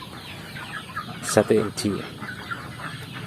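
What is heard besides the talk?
free-range chickens clucking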